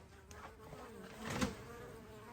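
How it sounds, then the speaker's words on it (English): Honeybees buzzing around an active colony nested in a stack of honey supers, a faint steady hum with individual bees droning closer past the listener. "looks like we have an active colony of honeybees in that stack of honey supers"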